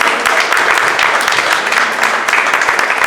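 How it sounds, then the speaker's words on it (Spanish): At a women's church meeting, a congregation gives loud, dense applause to welcome their pastor, with steady overlapping clapping close by throughout. "recibimos con un fuerte aplauso a nuestra pastora Marina también"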